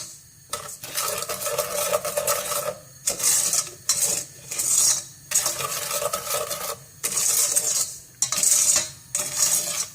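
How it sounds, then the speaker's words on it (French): Sugar stirred in a saucepan, a spoon scraping and rubbing against the metal in steady bursts of gritty, rasping strokes with short pauses between them, close and clear with no voices. "le sucre est dans la casserole, on remue, ça va prendre quelques minutes"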